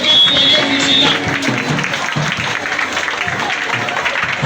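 A church congregation claps loudly and steadily, with cheering and shouts mixed into the applause, all close and continuous throughout.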